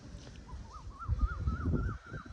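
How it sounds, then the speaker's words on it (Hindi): Birds call outdoors at Gurudwara Gaursagar Sahib, a run of about eight short rising-and-falling notes repeated in quick succession, moderately close over a low background rumble. "देखिए पक्षियों की आवाज़, पक्षियों के चहचहाने की आवाज़"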